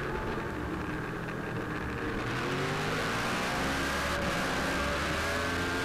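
Racing motorcycles in an AFM Formula Pacific race scream around the track, recorded close on board as a steady high engine wail that climbs gradually in pitch, with no talking.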